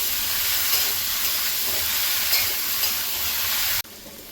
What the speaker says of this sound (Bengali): টমেটোগুলো দিয়ে দেবো, কিছুক্ষণ ভেজে নেব